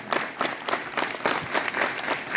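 Students at a school assembly clap together in rhythm, a dense and fairly loud burst of many hands with regular pulses rising and falling for a couple of seconds.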